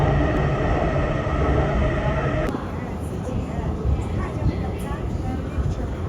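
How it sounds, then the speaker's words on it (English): A Chongqing metro train runs between the city centre and Happy Valley station, giving a steady low rumble of the carriage in motion, with an abrupt shift in the interior noise partway through and no voices. "The metro journey between Chongqing city centre and Happy Valley station took around an hour"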